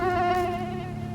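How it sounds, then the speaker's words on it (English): Mosquito buzzing as a short sound effect: a close, loud, whiny insect drone with a steady pitch and slight wavering, heard alone for about a second. "mosquitoes"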